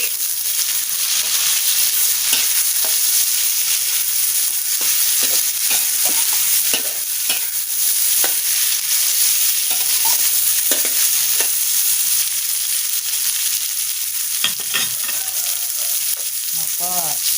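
Gourd and egg stir-fried in a hot pan over a strong flame with fried garlic, giving a loud continuous sizzle and hiss throughout, broken by repeated close scrapes and clacks of a spatula stirring against the pan.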